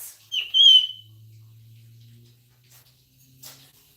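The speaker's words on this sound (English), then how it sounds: "Just being a noisy bird." A pet bird perched indoors lets out a short, shrill burst of squawking near the start. Quiet room hum with a low drone follows, and a faint chirp comes near the end.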